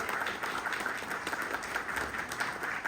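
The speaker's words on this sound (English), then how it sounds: "On the count of three, let's get a round of applause." Audience applause at a global launch event in Abu Dhabi, a dense, steady wash of clapping from a room full of people, fairly loud and continuous with no talk on top.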